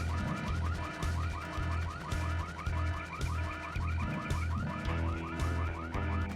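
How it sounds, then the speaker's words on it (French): A car alarm wails in the Full Throttle Remastered video game, a loud repeating siren cycling steadily over a low rumble, alone with no talk. "Alors qui a déclenché l'alarme"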